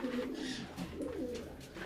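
Pigeons coo in a loft housing Kalpeti, Kalasobuj and Aliola breeds, soft low repeated cooing calls close by with faint rustling around them.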